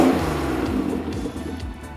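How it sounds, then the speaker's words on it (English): A BMW M50B20 inline-six swapped into a TE72 Toyota Corolla, running naturally aspirated, revs close by in a steady, loud engine drone that eases off slightly toward the end. "Give it a nice rev."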